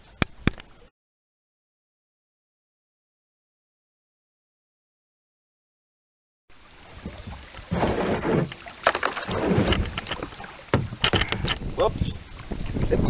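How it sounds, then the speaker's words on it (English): Kayak paddling on Shoal Creek: after a brief noisy start and a long silent gap, close splashes and dips of the paddle in water return with wind buffeting the microphone and rushing current. "we're gonna keep paddling on"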